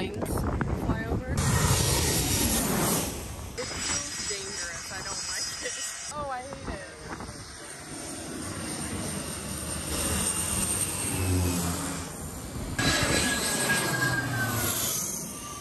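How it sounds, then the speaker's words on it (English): Loud roaring jet engine noise rising and sweeping low overhead during takeoff at the beach in Sint Maarten, with jet-blast wind rushing and people talking and shouting nearby throughout. "We just had a jet takeoff and it sandblasted everybody on the beach."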